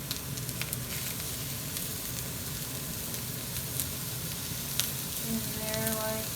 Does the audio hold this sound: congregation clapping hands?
no